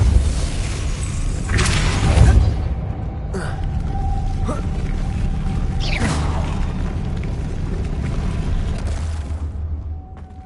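A Depulso force spell cast in Hogwarts Legacy, a loud whooshing magical burst with a booming rumble and mechanical creaks, followed by a lingering low drone and a second swelling whoosh.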